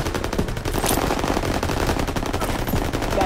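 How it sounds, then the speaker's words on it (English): Sustained machine gun fire from Call of Duty: WWII keeps up a rapid, continuous, loud burst of rattling shots, dense and unbroken throughout with no talk. "MG, open fire! Keep them off that bridge."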